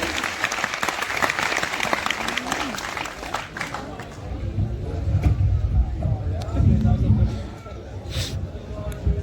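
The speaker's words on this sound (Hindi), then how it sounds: "जोरदार तालियां" Audience applause at a Hindi kavi sammelan poetry gathering in Panipat, loud crowd clapping in the first seconds that thins as background noise and low rumble take over.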